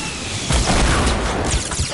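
A rocket launcher explosion in a PS4 video game: a broad, rumbling blast at mid-clip that stays loud and noisy for over a second, with no talk over it.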